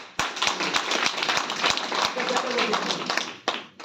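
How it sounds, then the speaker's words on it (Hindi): An indoor audience at a leadership programme gives a round of clapping, sharp individual claps popping out irregularly over a fuller patter of hands, with voices mixed in. "एक बार इन बहन जी के लिए भी जबरदस्त तालियां।"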